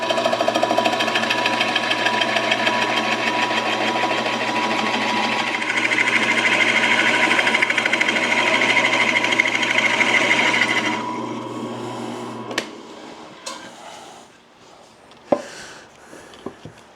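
A big Forstner bit bores into wood under a power drill, a loud continuous mechanical whir for roughly eleven seconds that shifts pitch midway, then winds down into scattered knocks and clunks as the work is handled.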